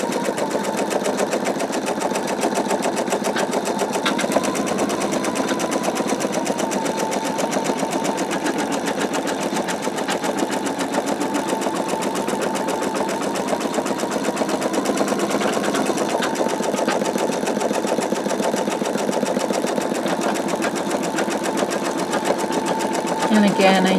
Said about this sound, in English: Now it's going to start sewing the second arc or the second semicircle.